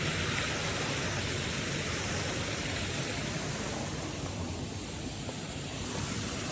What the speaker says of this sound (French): On traverse la rivière.